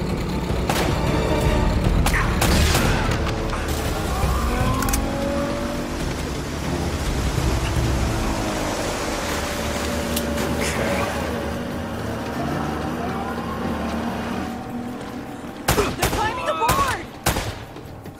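A video game firefight streamed over PS4 Remote Play, with bursts of automatic gunfire, sharp shots and blasts scattered across the scene, densest toward the end, under a busy game soundtrack and occasional character voices.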